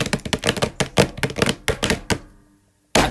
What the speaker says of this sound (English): That kind of sounds more like my Surface keyboard when I'm angry.